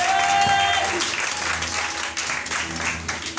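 Church congregation applauding during a worship service, a dense steady wash of clapping with a brief tone at the start and some faint voices mixed in.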